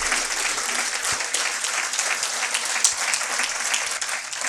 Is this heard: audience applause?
yes